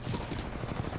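EVA-8 shotgun in Titanfall 2 firing in a fast run of dense, punchy blasts that blur together across a short, loud burst.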